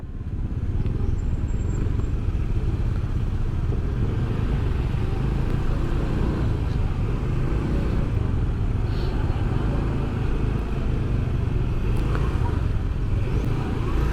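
Dense traffic jam of cars and motorcycles on a busy city street in Malang near the Ramayana store, a steady continuous rumble of idling and creeping engines with scattered clatter, no clear speech.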